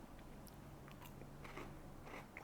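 A close bite into a crunchy Koala chocolate cookie with a thin, crackery shell, giving a few soft crunches and chewing sounds, faint and alone.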